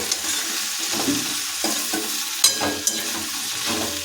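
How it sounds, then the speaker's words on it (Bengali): Potatoes, flat beans and eggplant with chikni greens being stirred by hand in a pan over a low flame, giving repeated soft scraping strokes over a faint steady sizzle, with no talking. "এটা এখন ভালোভাবে হাতে দিয়ে নেড়ে নেব"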